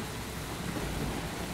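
Steady rain in the video game Heavy Rain hisses continuously with a low rumbling undertone, no voices, a dense wash of falling water.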